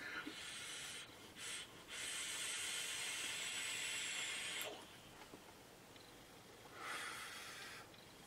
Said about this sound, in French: On a une belle vapeur.